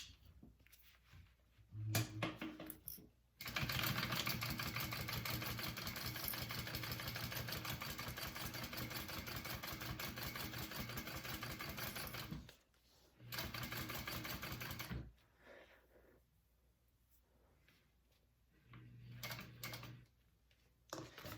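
A sewing machine top stitches a backpack, a Fun Bobby pattern, in a long loud steady whirring run with a shorter burst after a pause, framed by quiet handling and faint talk.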